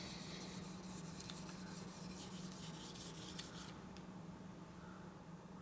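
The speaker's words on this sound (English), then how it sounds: "Oh yeah, that's polishing up real quick." Steady rubbing and scraping as a Demko AD20S knife is polished by hand, a continuous close, moderate abrasive hiss with a brief lighter stretch near the end.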